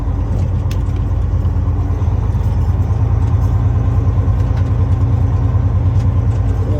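A Volvo truck with a Detroit Series 60 diesel engine and i-Shift transmission rumbles steadily at low speed in a parking lot, a loud, deep, even idle-like drone with faint rattles on top.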